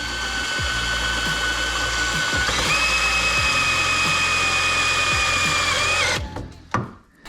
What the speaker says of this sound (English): Drilling straight into the good body work.